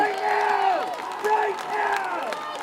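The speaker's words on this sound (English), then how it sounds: "Crowd is going wild." Football crowd at a varsity high school game, Algonquin against Shrewsbury, roaring and whooping steadily throughout with cheers rising and falling, while an announcer-style voice rises in excited tones over the noise.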